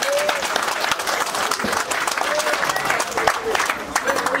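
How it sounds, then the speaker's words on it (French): An audience at a gathering applauds an honoured elder, brisk, dense clapping held at a steady level while voices murmur and a speaker talks faintly over it. "Vous voulez bien applaudir pour lui encore"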